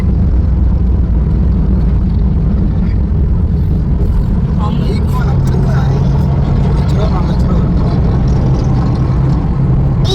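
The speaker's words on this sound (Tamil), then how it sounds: "நிறைய பைக் போகுது." Many motorbikes stream past on a road in Malaysia, a loud continuous roar of engines with overlapping passes and no break in the traffic noise.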